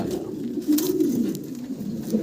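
A pair of Mundian pigeons coo softly and close by, a few low, throaty rolling calls rising over a quiet indoor background.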